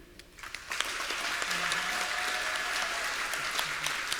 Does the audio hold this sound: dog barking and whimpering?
no